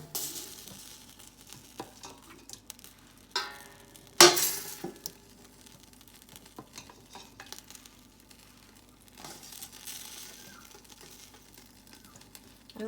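Meat and gravy for goat biryani going into a pot, soft wet plops and stirring with sharp metal-and-glass clinks of a spoon on the rim, close by, with a faint background sizzle and no talking.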